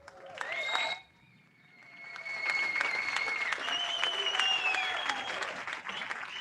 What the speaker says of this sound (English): people are cheering you